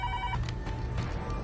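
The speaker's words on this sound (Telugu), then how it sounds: "ఫోన్ చేయి." A telephone rings on an outgoing call, its trilling ring tone sounding near and distinct at the start and then dying away into quiet hum, with no one speaking.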